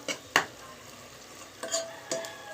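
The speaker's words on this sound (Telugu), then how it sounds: "సరిపడా సాల్ట్ వేసుకోండి ఒకసారి కలిపేసుకున్నాము సాల్ట్ వేస్తే బాగా త్వరగా వేగిపోతుంది" Onions frying with salt in a pan for a meal maker and egg biryani, a soft sizzle under a few sharp stirring scrapes spaced across the moment.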